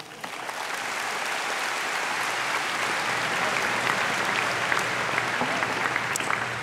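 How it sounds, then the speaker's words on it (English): Sustained applause from a high school graduation audience, a steady dense wash of clapping that holds at an even level throughout. "I think we can clap for that one more time"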